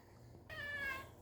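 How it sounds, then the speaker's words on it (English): A single house cat's meow, drawn out and rising, right after its tail was sat on; close and fairly clear, with no talk over it. "I sat on my cat's tail. So if you heard meow, that's what that was."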